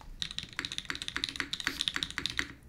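Rapid keyboard typing with soft, muted, thocky keystrokes in a steady uneven rhythm, close and moderately loud, no voices.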